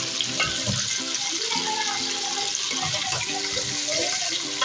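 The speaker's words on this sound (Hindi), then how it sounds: "जैसे ही हमारी जिंजर जो है वो फ्राई हो जाएगी" Ginger sizzles loudly in a pot with chicken for chicken malai handi, a dense, unbroken frying hiss that stays close and even throughout.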